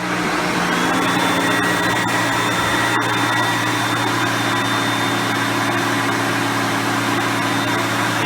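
A Hoover Concept One vacuum cleaner runs with a loud, steady motor roar and a constant whine, heard close and unbroken throughout with no talking.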